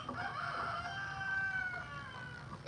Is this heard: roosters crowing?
yes